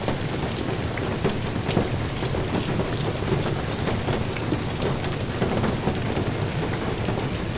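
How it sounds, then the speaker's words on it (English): Heavy video game rain keeps falling as the hail eases, a steady, unbroken wash of drumming drops and scattered pattering impacts with no talk. "Alright, the hail is easing out."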